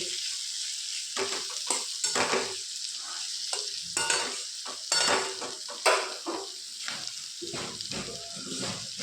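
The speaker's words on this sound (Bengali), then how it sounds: "পটল আর কেন্দুরি ভাজাটা নিয়ে সবগুলো একসাথে আরও কিছুক্ষণ 10 মিনিট মতো ভেজে নেব।" Pointed gourd and kendri frying together in a pan give a steady close sizzle, with repeated scraping and clinking as a utensil stirs them, and no voices.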